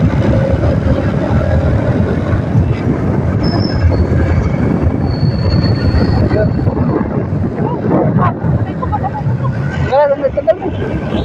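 A motorcycle on a road trip rumbles steadily and loudly throughout, with wind and road noise and people talking over it.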